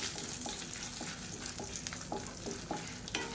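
Cumin seeds and dried red chillies roasting in a pan, a steady sizzle with repeated light scraping and stirring strokes at a regular pace throughout.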